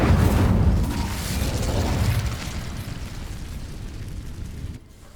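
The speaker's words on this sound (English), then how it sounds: "These dry vines are one spark away from becoming kindling. Incendio!" An Incendio fire spell sets dry vines alight in Hogwarts Legacy, opening with a loud whooshing burst that eases into a sustained roaring crackle before it cuts off abruptly near the end.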